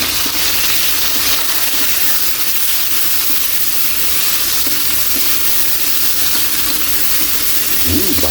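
Garlic, onion and tomato sauté with ginger in hot oil, a loud, steady hissing sizzle that fills the whole stretch without a break, close up, with no talk over it.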